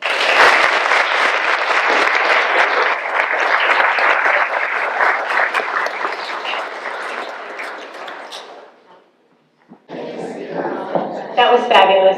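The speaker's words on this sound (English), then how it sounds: "Let's give them one more round of applause." Sustained audience applause at a poetry recitation competition, loud and dense for about nine seconds before fading out, then resuming briefly with a voice over it.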